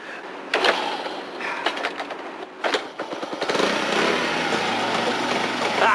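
A motorcycle being started: several short mechanical clicks and cranking bursts, then the engine fires and settles into a steady, moderately loud running drone for the last couple of seconds.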